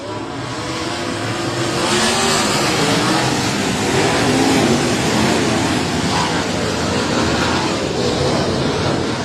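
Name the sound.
outlaw sprint cars starting a 25-lap race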